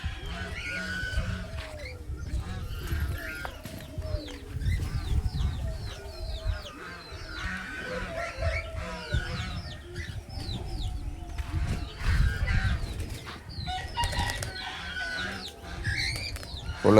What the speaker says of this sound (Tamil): கோழி குஞ்சுகள் தான் ப்ரூடிங்கை விட்டு வெளியே எடுத்த குஞ்சு குளிருக்கு எப்படி இருக்குன்னு பார்ப்போம்